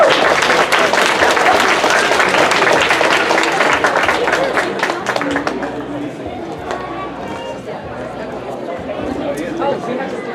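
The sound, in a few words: audience applause for a student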